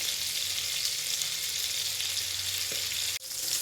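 Dried fish fries in a pan for a spicy fish curry, a dense, even hiss of sizzling oil that holds nearly throughout, cut by a sudden brief drop near the end, with no voices.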